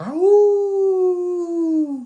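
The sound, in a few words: voice imitating a howling wolf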